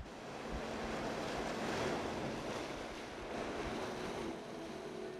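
Sea waves wash against the rocky north coast of Biyangdo, a volcanic island, in a steady broad surf roar with gentle swells and wind buffeting the microphone, continuous and moderately faint, with no voices.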